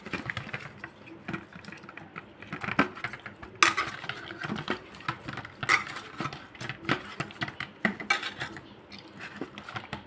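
Food being mixed by hand with turmeric powder and salt in a metal pot, giving steady close squelching and patting with frequent clinks and scrapes against the vessel, no voices over it.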